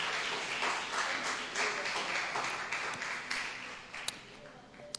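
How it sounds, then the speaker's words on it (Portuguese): A church congregation claps for Jesus after a sermon, a fairly soft, dense patter of hands that tapers off near the end, with some talk and a couple of sharp knocks at the close. "Se você puder aplaudir Jesus, aplauda o que ele merece."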